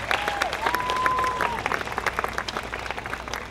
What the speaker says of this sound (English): join me in a round of applause, thanking our first responders, and particularly our firefighters, for all they do for us